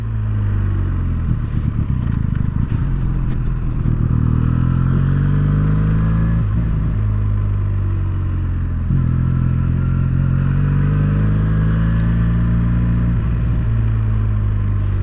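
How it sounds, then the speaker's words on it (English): A Benelli 302 motorcycle engine revs hard while being ridden, loud and close, with repeated rising whines as it winds up through the gears and brief dips between shifts, steady wind and road roar underneath. "it is a lot of fun to ride a slow bike fast, because wringing the neck on this thing, it's not only easy, it feels great"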